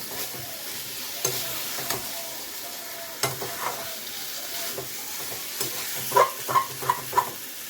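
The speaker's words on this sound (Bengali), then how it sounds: "আর একটু ফ্রাই করছি, যেহেতু আমি মাত্র প্রনটা দিলাম" Raw jackfruit and small prawns fry in a pan with a steady, quiet sizzle. Several sharper stirring scrapes come toward the end, with no talking.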